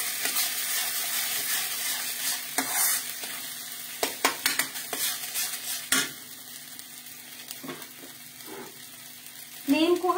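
Peas fry in a kadhai during home cooking, giving a steady low sizzle under repeated scraping stirs and a few sharp clanks of a spoon against the pan, with a brief voice near the end.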